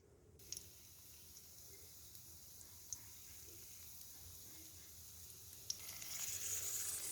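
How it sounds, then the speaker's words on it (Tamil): Cashews frying in hot ghee for a Chettinad pasi paruppu urundai, a faint, steady sizzle with occasional small clicks of stirring, growing slightly louder toward the end. "இப்போ இது கூட நம்ம எடுத்து வச்சுருக்க முந்திரி பருப்பு சேர்த்து வறுத்துக்கலாம்."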